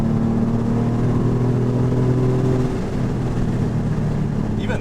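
A rebuilt Porsche 911 engine runs at half throttle during break-in, a loud, steady droning hum heard from inside the car that changes pitch partway through.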